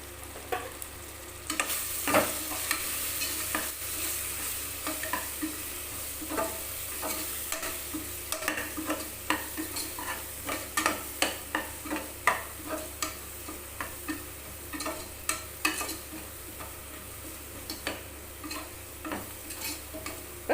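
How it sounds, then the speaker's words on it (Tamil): Onion, tomato and masala sauté in a pan while a spatula scrapes and taps the metal in a steady, repeated rhythm over a constant close sizzle. "இப்போ வெங்காய தக்காளியெல்லாம் கொஞ்சம் வதங்கிருச்சு"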